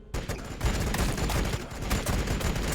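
Rapid bursts of battlefield gunfire from Warhammer 40,000: Battlesector, a multiplayer match of Adepta Sororitas against Tau, rattling densely and steadily at close range with overlapping shots and low booms throughout.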